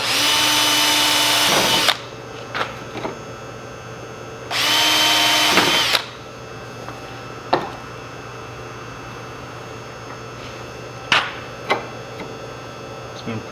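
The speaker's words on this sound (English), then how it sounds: "Alright, so I'm just gonna pre-drill." A power drill whirs in two loud bursts of about two seconds each while pre-drilling holes for a firewood rack, with a steady hum beneath and a few sharp knocks and clicks between.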